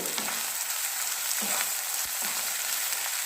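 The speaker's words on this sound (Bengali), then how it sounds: "এটাকে ভালো মতো খুব ভাজবো।" Lotte fish sizzling steadily in a frying pan, a continuous close crackle of hot oil with a few soft stirring scrapes and no talking.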